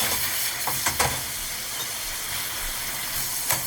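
Garlic sautéing in a hot pan, a steady, dense sizzling hiss with a few faint clicks and stirring knocks, close and continuous with no talk.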